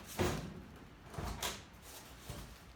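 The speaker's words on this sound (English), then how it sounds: "So we're going to basically pull this door" The loose door of a 1966 El Camino, with a faulty striker, is pulled and shifted, giving three dull clunks and thuds spaced about a second apart, close by with no one talking.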